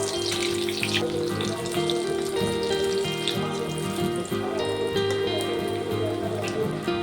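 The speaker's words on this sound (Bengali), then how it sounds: "সুন্দর করে লাল লাল করে ভেজে নেব" Potato and cornflour snacks frying in hot oil in a kadai, a continuous crackling, bubbling sizzle close up, steady and fairly loud throughout.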